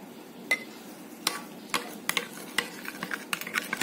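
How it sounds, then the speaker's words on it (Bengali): Chicken shawarma marinade ingredients such as salt and ground pepper being mixed by hand in a bowl, heard as soft scattered clicks and scrapes at an uneven pace, close and quiet with no talking. "সবগুলো উপকরণ আমি এখানে মিক্সড করে নিব।"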